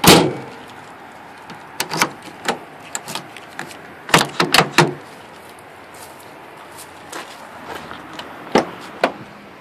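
Lockable fuel filler door on a 2011 Ford F150 EcoBoost pickup, a series of sharp clicks and taps opening and closing it, one loud knock at the start and scattered crisp clacks after, close in a quiet space.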